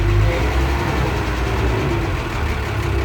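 A walking tractor with a long-nosed engine, running in middle gear through a garden, gives a steady loud low rumble with a constant chug throughout, no voices.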